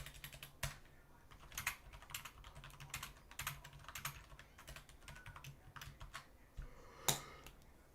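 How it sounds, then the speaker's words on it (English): Typing on a computer keyboard, irregular clusters of close, crisp key clicks with brief pauses between bursts and one sharper keystroke near the end, with no talking. "Just typing this."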